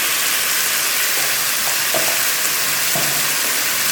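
Chicken with black pepper sizzles steadily in a hot pan, a loud continuous hiss close up that never lets up, with a few faint scrapes of stirring and no one speaking.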